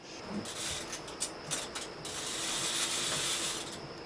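A ratchet tightens a bicycle rear wheel during a bike build, its pawl giving off continuous quick metallic clicking, close and steady with a few sharper ticks.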